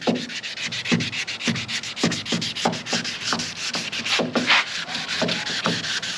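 Wet sanding of cracked gelcoat on a boat hull, a steady rhythmic back-and-forth rubbing with regular strokes about twice a second, close and fairly loud, with no voices.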